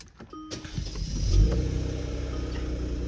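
Kia Stinger GT shifting down while driving, engine note rising briefly as the automatic transmission drops from third to second and second to first; a close, moderate in-cabin drone swelling then settling over a few seconds.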